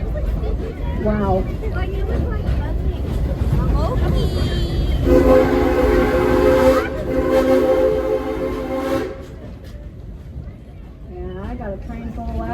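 An amusement park train at Silver Dollar City rolls along its rails, a steady rumble with a bright horn or whistle blast midway, while a crowd of riders chatters and shouts throughout.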